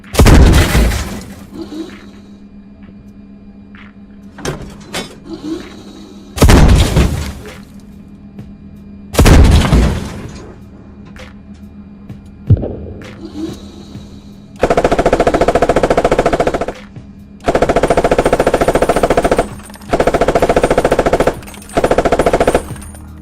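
In the video game Squad, a Challenger 2 tank alternates booming 120 mm cannon shots with long, loud bursts from its coaxial machine gun, the cannon blasts spaced out first, then several sustained automatic bursts.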